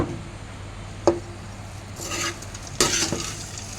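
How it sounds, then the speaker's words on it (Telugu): Fried ivy gourd (dondakaya) pakoda mixed with peanuts is stirred in a pan, soft sizzling underneath a few scraping, clattering stirs of the spoon against the pan. "పెట్టుకున్న దొండకాయని ఇందులో వేసేసి బాగా మిక్స్ చేసుకున్నాం"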